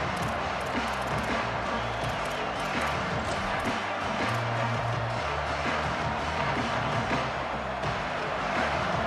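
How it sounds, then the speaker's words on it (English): A big football stadium crowd at a night game, roaring and cheering in a dense, continuous wall of noise, loud and unbroken, with no clear voices standing out. "This crowd bringing the energy and noise early."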